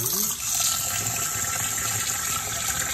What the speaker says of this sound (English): First, we need to wash our rice or rinse our rice to get all the starch out.